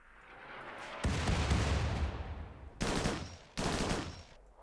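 Gunfire in the video game Rimworld comes as a long rattling burst followed by two shorter loud volleys, dense and close, with no talk over it.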